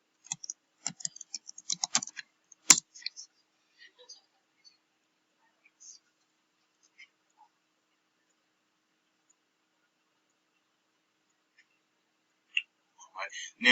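A username and password go in on a computer keyboard as a quick burst of light key clicks in the first few seconds, then sparse isolated taps and a short cluster of clicks near the end, faint and close in an otherwise quiet room.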